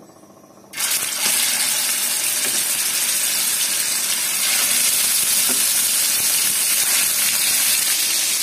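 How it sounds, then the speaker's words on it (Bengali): After a brief quiet moment, pieces of chicken drop into hot oil in a wok and a loud, steady sizzle and crackle carries on up close. "এখন চিকেন এর মধ্যে হালকা ভেজে নেব"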